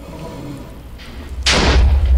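A Ghast fireball explodes in Minecraft, a loud close burst of noisy roar that swells suddenly over a steady low rumble and holds to the end.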